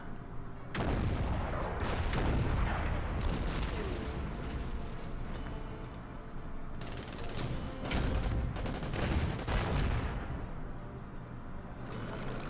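Continuous artillery barrages from a World War II strategy game, with dense rumbling volleys and overlapping booms, loud and sustained, with heavier bursts clustered around the middle and later moments.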